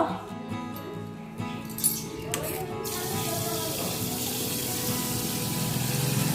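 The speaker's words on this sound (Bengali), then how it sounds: "বেসিনটা একটু গন্ডগোল করছে জলটা ছাড়বো" Water pours steadily from a wash basin tap that is acting up, a continuous rushing hiss that grows fuller after the first few seconds, with faint indistinct voices and household clatter early on.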